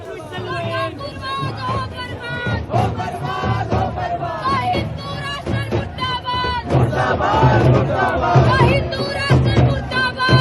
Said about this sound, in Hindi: ये लोग नारेबाजी कर रहे हैं, ब्राह्मणवाद मुर्दाबाद।